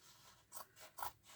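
Scissors cut denim blue jeans fabric close to a sewing line, giving two quiet, close snips over a soft rustle.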